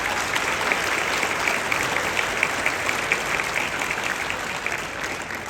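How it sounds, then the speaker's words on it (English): Steady, full applause from a school audience in a gymnasium with a hardwood floor, an even wash of many hands clapping that tapers slightly at the end. "Let's give a round of applause to Mr. Percy Brown Jr."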